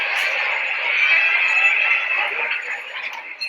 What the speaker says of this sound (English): Sound number 1 sounds like a crowd of people.